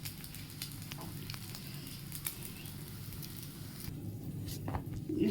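Butter sizzling in a hot pan while cooking a South Indian dish, a steady soft crackle and hiss running continuously at moderate level, close by, with a few small pops near the end.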